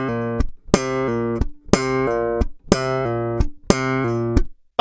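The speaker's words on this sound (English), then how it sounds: "So when I do the muted slaps, rather than just get my thumb to hit the strings, I'm actually allowing my hand to fall on all the strings at once," Muted slaps on a bass guitar, the whole hand falling across all the strings at once, in a slap bass style. Four repeated phrases of clear percussive, pitched bass notes played alone, close and loud.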